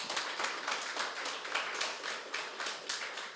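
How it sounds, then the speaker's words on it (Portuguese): A church congregation applauds together at a New Year's Eve service, a steady, dense wash of many hands clapping with rhythmic pulses throughout, moderately loud and with no talking over it. "vamos aplaudir o Senhor mais uma vez?"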